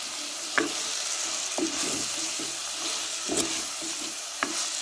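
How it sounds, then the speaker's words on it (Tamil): Onion, garlic and green chillies sautéing in a clay pot, a steady soft sizzle broken by a few sharp scraping stirs spaced a second or so apart, close and without talk. "உள்ளி அஞ்சு பச்சை மிளகா இதை நல்லா வதக்கணும்"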